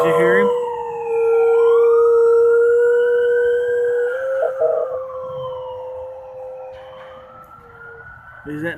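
A wailing police siren rises and falls, loud and close, with a hound dog's long howl joining in over it.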